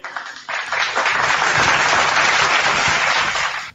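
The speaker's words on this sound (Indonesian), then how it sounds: "Tepuk tangan pula." A debate audience breaks into dense, loud applause that rises quickly and holds steady for several seconds before cutting off.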